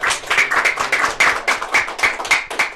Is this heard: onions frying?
no